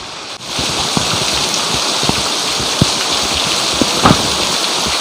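Steady rain pouring down, a dense even hiss with scattered louder drips and taps on surfaces, loud and close throughout.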